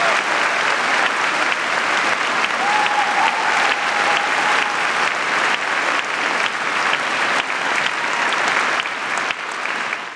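Audience at a poetry slam awards show at the Elbphilharmonie gives sustained, dense applause filling the hall, loud and even throughout with no speech over it.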